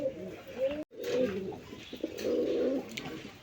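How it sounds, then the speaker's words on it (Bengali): Racer pigeons coo in a close series of soft, throaty calls, with a brief break near the start before the cooing resumes steadily. "বন্ধুরা এখানে আরেকজন সর্দি রেসার কবুতর আছে"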